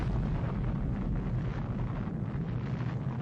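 A nuclear bomb blast is a sustained, heavy low rumble with a wind-like roar, loud and steady across the whole stretch with no speech over it.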